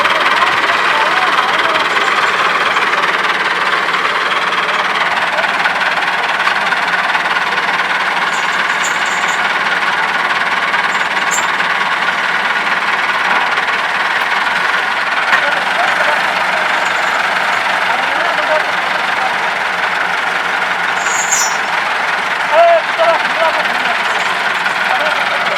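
A Mahindra-style IMT 577 tractor engine runs steadily under load, pulling a trailer stuck on a road; a continuous droning rumble persists throughout with a brief faint voice and slight clanks.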